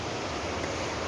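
Constant hiss of flowing water from a stream that swells with rising water level, steady and unbroken near an outdoor vlogger, with no one speaking.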